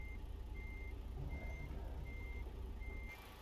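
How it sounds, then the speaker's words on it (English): A truck backing a trailer in a video game gives off a steady, evenly spaced series of reversing beeps over a continuous engine rumble, with no voices. "I don't think I've ever seen you back a trailer before."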